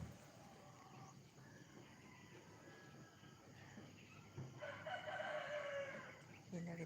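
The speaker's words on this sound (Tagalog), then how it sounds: "Yan narinig yung mga manok." Chickens in a home garden in the morning, with a rooster crowing faintly in the distance and soft clucks over a quiet outdoor background.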